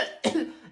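A single close cough from a person who has a cough, a short rough burst followed by a quieter tail and the start of another.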